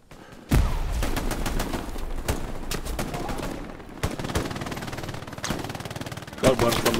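Loud bursts of automatic gunfire and single rifle shots from the World War II shooter Hell Let Loose crack repeatedly across the scene, with a heavier boom near the end and players talking over the shooting.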